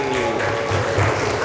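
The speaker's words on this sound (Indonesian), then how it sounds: "Tepuk tangan dulu untuk kita semua." A church congregation claps together during an Indonesian sermon, with a dense, steady wash of applause and faint voices mixed in throughout.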